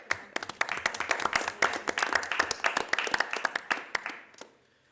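A round of applause at a city council meeting in Bristol, Tennessee: many hands clapping in a dense, steady patter for about four seconds before tapering off.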